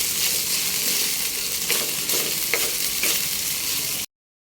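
Fried rice sizzles loudly in a pan, a dense, close crackle with several scraping stirs of a utensil, and then stops abruptly.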